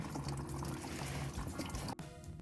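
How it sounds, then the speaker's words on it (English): Coolant draining from a VW MK4 with a leaking coolant distributor, a steady, faint, continuous pour of liquid with a brief break near the end. "At this point, I decided to go ahead and drain the coolant."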